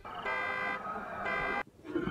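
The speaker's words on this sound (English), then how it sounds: "Mr. Dean, why is the car alarm going off?" A car alarm blares in loud, pulsing two-second bursts of a repeating electronic tone, close by, and stops abruptly near the end.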